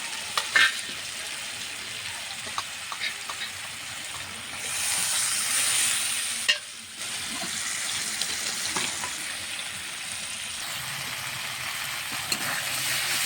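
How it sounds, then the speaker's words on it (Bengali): A paste of onion, red chilli, turmeric and salt fries with raw green banana in a pan, a quiet sizzle with scattered spatula taps and a louder surge of hissing midway, close and without speech. "এখন ভালো করে কষিয়ে নেব"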